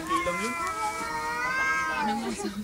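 A cat lets out a long, drawn-out yowling meow that rises and falls in pitch for over two seconds, close and clear, with a bit of background noise.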